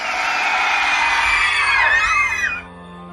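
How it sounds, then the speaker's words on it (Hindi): A sound effect of many people screaming together echoes through a fort, a loud, dense chorus of overlapping shrieks that swells and then cuts off sharply near the end. "पूरा किला बहुत सारी चीखों से गूंज पड़ा।"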